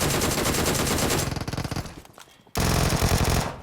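Rapid automatic gunfire in the PUBG Mobile video game, loud and close, with a sustained burst, a short pause of scattered shots, then another dense burst.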